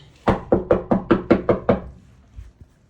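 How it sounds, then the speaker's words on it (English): Seven quick, firm knocks on a door in an even rhythm, close by, followed by a couple of faint thuds and quiet. "Knock at the door, still not picking up. Another knock."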